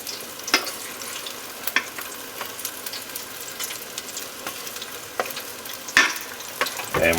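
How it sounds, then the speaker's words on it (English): Pork chops deep frying in a fryer basket for a Southern fried pork chop ham sandwich, a steady soft bubbling sizzle with occasional sharper pops and crackles, moderately close, no talking. "I like using the fryer on this one. These things fry really, really quick."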